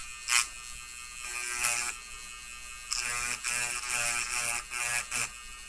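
A small electric grinder whines in short bursts against the pins of a car remote key under repair, its buzzing tone starting and stopping repeatedly at close range.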